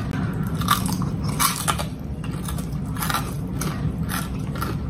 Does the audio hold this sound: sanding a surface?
no